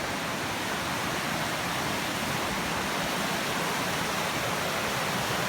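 Loud, steady rush of river water along the Appalachian Trail, with whitewater churning through a small hydraulic; a dense, continuous roar fills the whole stretch with no break or talk.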